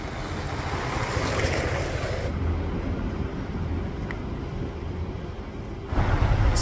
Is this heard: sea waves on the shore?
yes